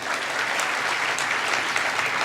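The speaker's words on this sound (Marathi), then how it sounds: "आता याच्यासाठी टाळ्या मी वाजू का" Audience applause at a lively public talk, a dense, even burst of clapping from a crowd, steady and moderately loud from start to finish with no speech over it.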